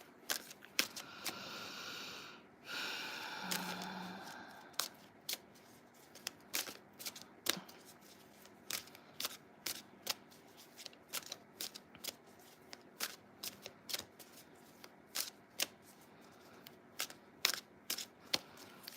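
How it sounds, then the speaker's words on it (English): Tarot cards being shuffled by hand, a soft riffle at first followed by a long run of crisp, irregular card snaps and taps, close and fairly quiet. "let me pull a card for you"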